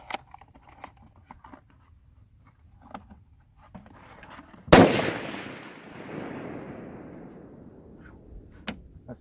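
A single loud gunshot at an iron target rings out outdoors, with a sharp crack and a long decaying echo, amid quieter rustling and faint handling noises before and after.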